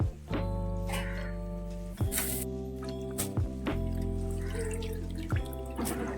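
Dried shrimp are rinsed in a bowl of water, sloshing and dripping, with a steady tonal hum underneath and occasional splashy bursts.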